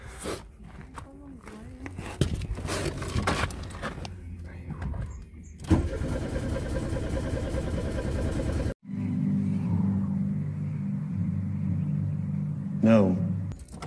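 A car engine is cranked and started after repair work on its gearbox, with bursts of turning and rough running that build into a loud sustained rumble and a revving rise near the end. A person talks in places.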